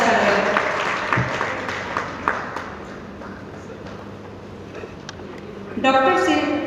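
An audience applauds a welcomed guest at a book launch ceremony, a burst of clapping that thins and fades over several seconds before a voice comes in at the end.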